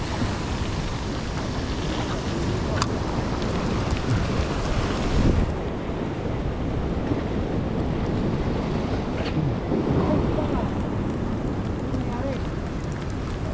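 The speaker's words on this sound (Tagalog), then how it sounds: "Yan, malaki ang alon." Big ocean waves crash on a rocky shore during rock fishing, a continuous loud roar of surf mixed with wind buffeting the microphone, with brief speech.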